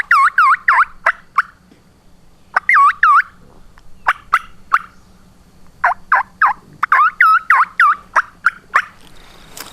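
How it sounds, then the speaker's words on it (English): A wild turkey gobbler calls in repeated rattling gobble bursts alongside sharp clucks and yelps, loud and fairly close in open country, with quiet gaps between the series. "he'll start gobbling"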